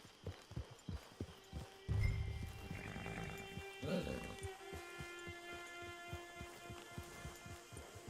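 Horse hooves clip-clopping at a steady walking rhythm in the Red Dead Redemption 2 game, moderately close under background game ambience, with a brief louder rumble and a short burst of other sound partway through.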